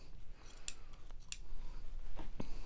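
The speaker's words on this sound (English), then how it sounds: "So I'm just going to trim my piece off." Scissors snip through a fabric selvage strip in two crisp, close cuts, followed by softer handling rustles of the cloth.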